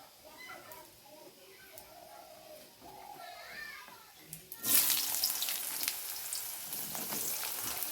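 Children's voices chatter faintly in a quiet kitchen until thinly sliced potatoes drop into hot oil tempered with five-spice. A sudden loud sizzle bursts out and then holds steady.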